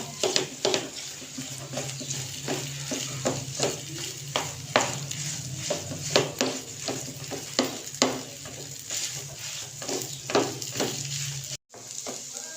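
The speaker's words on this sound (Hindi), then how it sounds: "मैं साथ साथ घी भी डालती जा रही हूँ और साथ साथ मुसलसल चम्मच भी चला रही हूँ इसके अंदर" Semolina stirred with a spoon in a pan of ghee over low heat for laddu, giving a steady sizzle with repeated scraping spoon strokes close by, no talk.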